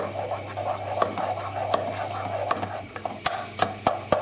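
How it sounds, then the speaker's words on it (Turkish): In a pot, flour and tomato paste are sautéed while a spoon scrapes and taps against the metal. A low sizzle sits beneath a run of close, irregular clinks and stirring scratches, with no speech. "Salçanın hafif rengi dönene kadar birlikte kavuruyoruz."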